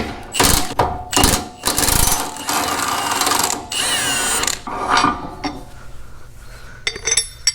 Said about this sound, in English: put the vice grips on the nut, and then the impact on the bolt